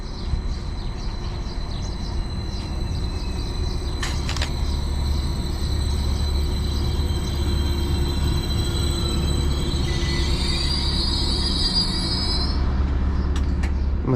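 A slightly delayed Greater Anglia service, the 0908 from Norwich to Stansted Airport, pulls into a Cambridgeshire station with a steady, close rail rumble. A thin metallic wheel squeal rises and falls near the end.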